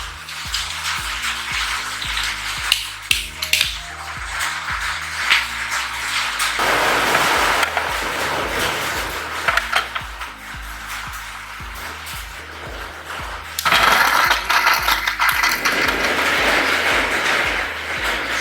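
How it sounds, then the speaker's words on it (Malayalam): A kitchen mixer grinder works beef into a paste for beef balls, its motor whirring loudly in repeated pulsed runs with rattling jar noise between bursts. "ഇത് നന്നായിട്ടൊന്ന് അരച്ചെടുത്തിട്ട് വരാം"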